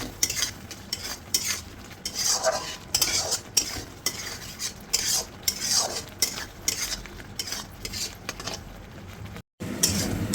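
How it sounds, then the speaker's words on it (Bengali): A spoon stirs capsicum in a hot pan with brisk, repeated scraping strokes against the metal over a light sizzle, close and fairly loud. "ক্যাপসিকামটা দিয়ে দিয়েছি ক্যাপসিকামটা একটু নেড়ে ছেড়ে"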